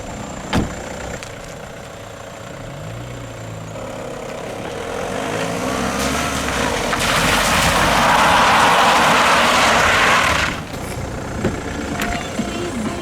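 A car drifting, its engine revving and roaring louder for a few seconds, with a broad hiss that could be tire noise rising over the engine, then dropping off sharply. A few brief knocks are heard near the start and end.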